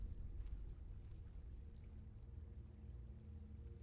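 Water flowing steadily through a cave in the Skyrim video game, a continuous low rushing wash with a faint hollow echo, heard alone.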